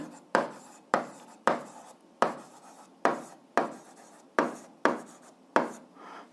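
A pen writes an algebra expression by hand, about nine crisp, evenly spaced scratching strokes, each with a sharp onset and quick fade, recorded close and alone.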